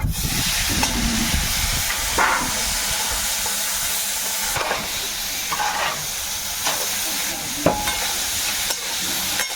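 Fresh river prawns fry in hot oil in a kadai wok, producing a loud, continuous hissing sizzle, close up, with occasional clatter of stirring throughout.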